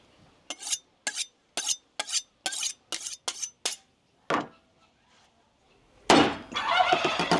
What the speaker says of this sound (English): Check out these chopping skills.